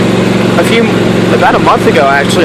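A John Deere LA 150 lawn tractor engine hums steadily at a low drone while being ridden, sitting under someone talking close by throughout.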